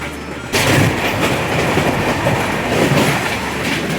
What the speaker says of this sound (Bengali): সুপারফাস্ট ট্রেন প্রচণ্ড তাড়াহুড়োয় ছোটোখাটো স্টেশনগুলোকে অবহেলায় পেরিয়ে যাচ্ছে